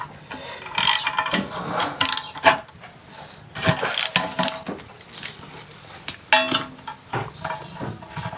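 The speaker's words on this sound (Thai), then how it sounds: "ถอดน็อตแถมตัวนี้ที่ยึดชุดปั๊มนะครับกับมอเตอร์เลย" A ratchet wrench clicking in short bursts as the nuts holding an automatic water pump housing to its motor are backed off, loud and close with metallic rattles between strokes.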